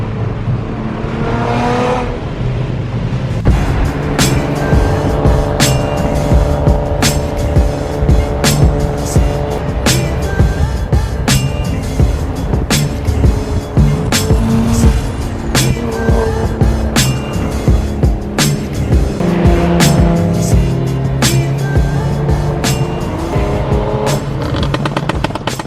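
A big-turbo race car roars and accelerates past with tire squeal and repeated sharp pops and bangs from the exhaust, loud and close over about twenty-five seconds of continuous engine noise.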